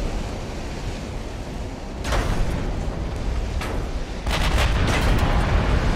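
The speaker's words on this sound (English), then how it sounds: "Super heavy shells. Quick explosions." Super heavy naval shells in the warship game Ultimate Admiral: Dreadnoughts boom and explode over a loud continuous roar, with a few sharp blasts rising out of the dense rumbling noise.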